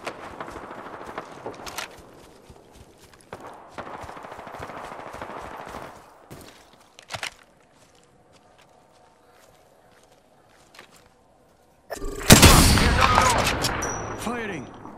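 Bursts of automatic gunfire and scattered shots in the battle royale game Apex Legends, with quick footsteps between volleys, a quiet lull, then a loud close burst of rapid fire near the end.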